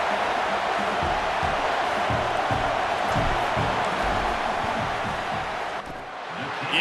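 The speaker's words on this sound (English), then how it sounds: "This crowd trying to do its part to get inside the kicker's head" A stadium crowd in EA Sports College Football roars steadily during a field goal attempt, a broad, continuous wash of cheering and noise from a large distant audience, with a brief dip near the end.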